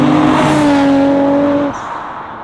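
Nissan Skyline R33 GTR, turbocharged and making about 500 bhp, revving loudly with a sustained rising engine tone that drops off sharply as the throttle is released.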